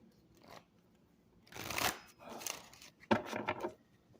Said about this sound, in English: At least you guys know that I shuffle these cards.